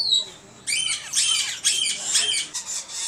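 Young, fully feathered Alexandrine parakeet chicks squawk loudly and harshly in rapid, overlapping bursts, close by at a Sunday bird market in Multan.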